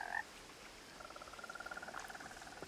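A frog in the game What Remains of Edith Finch gives one short croak, then a longer rapid trilling croak that pulses steadily, quiet and close, with no voices.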